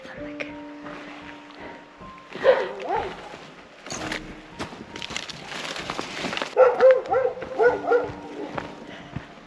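Several dogs bark in a forest, including one named Güneş, with scattered barks at middle distance, some louder and clustered, mixed with footsteps and brief talk.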